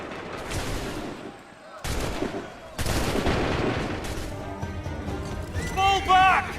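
Musket volleys in the video game Assassin's Creed III, several loud crackling bursts of gunfire separated by brief gaps, with shouting voices mixed into the battle din.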